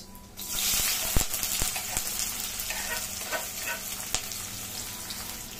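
Chopped onions fry in hot oil with cumin, giving a steady, close sizzle with scattered sharp pops and crackles throughout.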